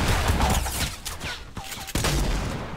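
Gunfire in a Fortnite Battle Royale duos match cracks in a rapid burst of shots, several sharp reports in quick succession amid game sound effects, loud and close.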